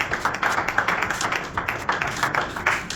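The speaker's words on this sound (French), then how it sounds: "Applaudissez pour vous-même." A church congregation gathered in a home applauds steadily, a dense and continuous clatter of many hands at close range.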